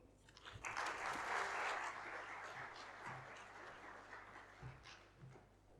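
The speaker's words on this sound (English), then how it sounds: "Another round of applause" Audience applause at a conference in Zanzibar after a speech by the health minister, a broad steady burst of clapping that rises quickly, holds, then slowly thins out, with no talk over it.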